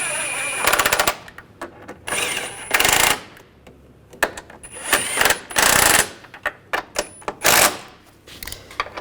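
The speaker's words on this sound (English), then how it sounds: "Snug these bolts down." Bursts of a power tool snugging down the strut mount bolts on a 2009-2017 Volkswagen Tiguan, loud rapid rattling hammering in several close bursts separated by short pauses.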